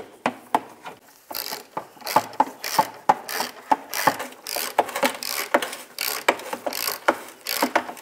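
A ratchet snugs down three bolts on the spare tire holder bracket of a 2004-2010 BMW X3, giving steady, close, rapid clicking strokes in repeated bursts, with no talking.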